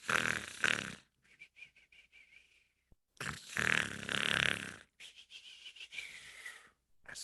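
A voice imitates a sleeping giant snoring: two loud, long rasping snores, each followed by a softer whistling exhale, in a slow, steady rhythm.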